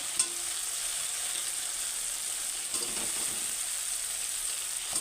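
Potatoes frying in a pan with oil and salt for a Bengali-style egg paneer dish: a steady, close hiss of sizzling with a few brief clinks and stirring scrapes, no voices.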